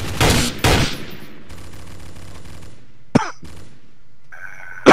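Gunshots in a multiplayer video game, a couple of loud sharp bursts near the start followed by quieter game sounds and a few brief clicks and chirps later.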